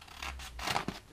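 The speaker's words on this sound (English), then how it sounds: "So I'll cut that out of the stone chip stuff now" A blade cutting 3M stone chip protection film, two or three short scraping, tearing strokes heard up close and fairly quiet.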